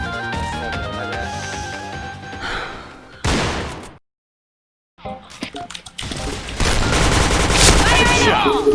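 Gunfire from the first-person shooter Point Blank, a dense burst of shots and impacts that cuts to silence for about a second, then returns as loud, sustained fusillade with overlapping game sounds and music.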